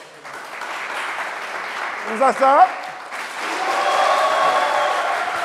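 Game-show studio audience in Côte d'Ivoire's Jour de chance applauds to vote, a steady moderate round of clapping that swells in the second half, with a host speaking briefly over it.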